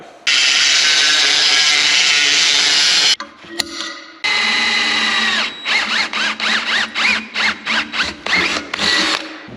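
A power tool cuts a piece of 4x4 inch square steel tube with a loud, sustained whine, stops briefly, then runs again in a rapid series of short pulsing cuts close by.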